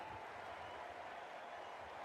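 Simulated home crowd at a cricket match, Perth Scorchers versus Sydney Sixers, cheering and clapping as a steady, distant wash of noise that stays faint and even throughout, with no voices on top.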